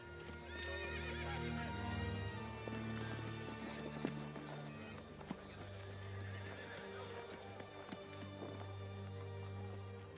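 A horse whinnies and snorts while hooves clip-clop steadily nearby, set against a low ominous musical score with occasional thuds, in a medieval war-movie scene.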